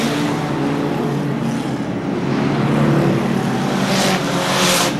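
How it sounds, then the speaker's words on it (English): Stock saloon cars racing on an oval track at a 1978 meeting, engines roaring continuously with passing surges of revving, fairly close and loud. "Car number 79, Percy Stewart, is second"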